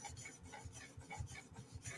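A blade edge worked across a 400 grit sharpening stone, giving a quick, even series of close rasping strokes, roughly four per second, alone with no talk.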